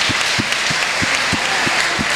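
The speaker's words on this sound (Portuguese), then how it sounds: "a salva de palmas para Parque" A large crowd applauds steadily in a dense, sustained wash of clapping, with a low regular thump pulsing underneath.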